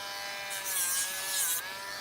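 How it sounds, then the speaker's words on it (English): A Dremel rotary tool sands the edge of a paper brick, a steady high whine with two short bursts of gritty abrasive rasping as the bit meets the paper. "If you take a Dremel tool and you sand the edge like that"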